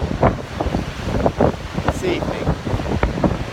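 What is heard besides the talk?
strong wind blowing on microphone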